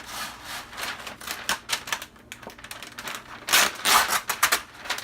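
A sheet of paper liner is torn off a roll in a close, rasping rip that comes in uneven bursts for several seconds, with no talk over it.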